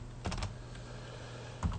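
Several quick keystrokes tap on a computer keyboard in two short bursts separated by a pause, quiet and close over a low steady hum, with no voices.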